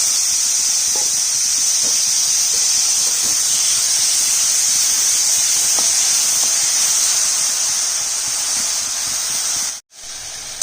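Strawberries hitting a hot pan of panch phoron for chutney set off a loud, steady hissing sizzle that runs on evenly, broken by one brief dropout near the end.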